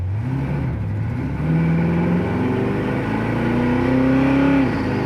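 A 1972 Chevy Nova accelerates hard, its engine note climbing in pitch, dropping at a gear shift, then rising again, heard from inside the car as a steady, fairly loud roar.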